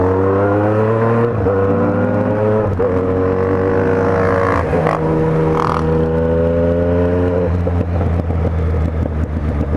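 A yellow Yamaha MT-09 motorcycle rumbles under a rider on the way home, its exhaust a steady, close drone with slight rises in revs and no talking.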